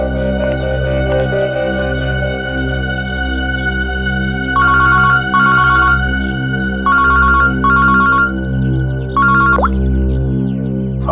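A telephone rings several times in short, bright electronic bursts. It sits over a loud, sustained music and drone bed in a TV crime drama scene.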